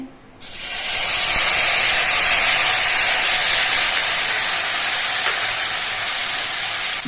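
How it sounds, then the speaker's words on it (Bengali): Green chili paste hits hot oil with fried dried red chilies and whole cumin, setting off a loud, steady, close sizzle that begins abruptly and hisses on without a break. "মশলাগুলো ভাজা হয়ে যাওয়ার পর এর মধ্যে আমি কাঁচা লঙ্কা পেস্টটা দিয়ে দিচ্ছি"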